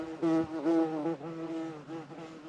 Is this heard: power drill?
no